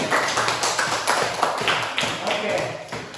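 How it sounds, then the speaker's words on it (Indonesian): Schoolchildren in a classroom clap for a classmate, a burst of quick, uneven hand claps close by, mixed with children's voices and chatter. "Berikan tepuk tangan buat Sines"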